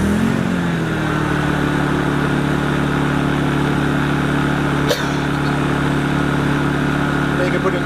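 A Honda EU2000i inverter generator fires up after a recoil pull and settles into a loud, steady running hum close by, with one brief click partway through.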